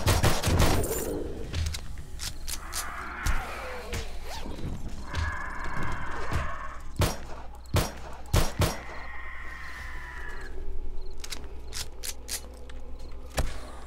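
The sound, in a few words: gunfire during a zombie horde in the video game 7 Days to Die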